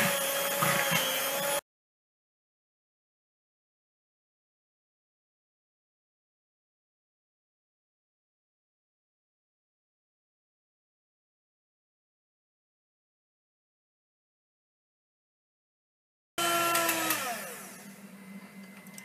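Electric mixer whisking egg whites with a pinch of salt, a loud whirring motor heard in a short burst at the start and again near the end, with a long stretch of silence between.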